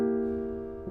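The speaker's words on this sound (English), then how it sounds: "use this very popular gospel passing chord" Single piano gospel passing chord struck once, rich and full, sustaining and slowly decaying over almost a second, heard alone.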